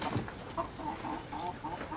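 Roosters and hens in an urban homestead yard cluck repeatedly at a moderate distance, soft burbling calls overlapping one another over a steady outdoor background.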